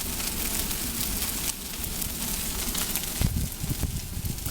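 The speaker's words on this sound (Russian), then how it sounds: "Куски пламени прям отрываются." A large outdoor bonfire burns with a steady roar of crackling and hissing flame noise, with louder pops and snaps flaring near the end.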